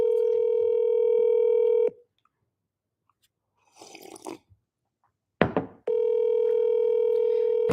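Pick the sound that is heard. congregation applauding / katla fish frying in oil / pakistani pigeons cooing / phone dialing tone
phone dialing tone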